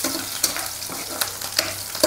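Green chillies frying in a pan on a small stove, a close steady sizzle broken by several sharp clicks and scrapes of a spoon stirring.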